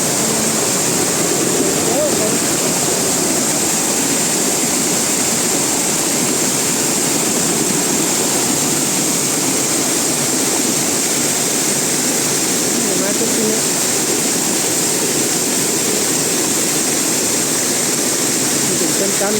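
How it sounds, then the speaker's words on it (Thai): Mae Ya waterfall near Chiang Mai, Thailand: a loud, unbroken roar of falling and rushing water that stays constant and close for the whole stretch, with no pauses or changes. "น้ำตก"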